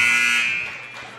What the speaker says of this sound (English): 2 seconds to go, and they're just going to call the buzzer